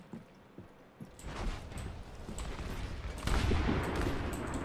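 Revolver shots from McCree in the video game Overwatch, fired in quick succession amid a dense, noisy wash of game combat sound that swells louder toward the end.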